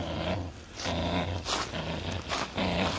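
A Border Collie puppy about four and a half months old growls steadily while tugging on a tug rope, a continuous close, rumbling growl with slight pulses and no talking.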